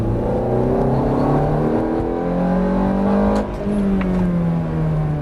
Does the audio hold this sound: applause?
no